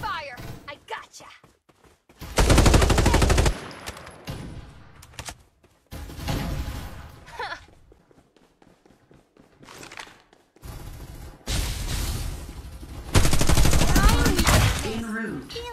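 Bursts of rapid automatic gunfire from the shooter game Farlight 84, loud and close, come in several long volleys separated by quieter stretches of game sound and voice.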